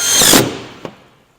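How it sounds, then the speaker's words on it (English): A power drill drives a screw through a VelociRAX bike rack mounting bracket into a garage wall. One short, close, high whir lasts under half a second, followed by a single sharp click. "And then I'll sink in my second screw."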